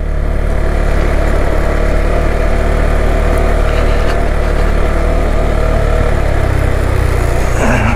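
A KTM 390 Adventure motorcycle rides along a local lane, its engine a loud, continuous close drone mixed with steady wind rush.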